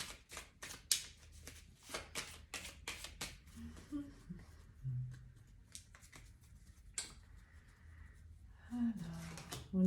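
Tarot cards shuffled for a cross spread make quick riffling flutters and snaps, loud near the start and then sparser, close by, with a voice speaking softly in places.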